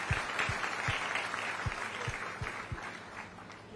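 Applause welcoming a speaker at a Chhattisgarh government unemployment allowance event, a faint, steady crowd clapping heard from a distance, with a few sharper low thumps recurring through it.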